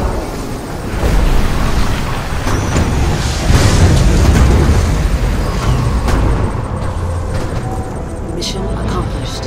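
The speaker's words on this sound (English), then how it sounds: "Ion cannon active." Ion cannon strike in the Command & Conquer video game, a loud sustained rumbling explosion with crackling bursts that gradually fades over several seconds.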